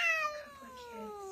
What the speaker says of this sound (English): I now have cats in my roof.